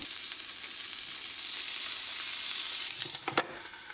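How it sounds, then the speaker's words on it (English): Steady, close hiss and crackle of bacon frying in olive oil on a George Foreman grill, with a few sharper pops near the end. "Spray it with a little olive oil and put the bacon on."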